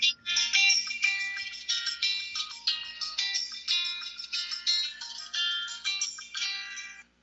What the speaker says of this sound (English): Yeah, my phone went off.